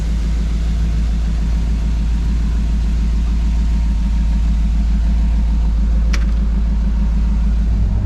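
A 1959 Chevrolet Apache pickup engine idles steadily up close, a loud, even low rumble that holds without revving, with a single faint click partway through.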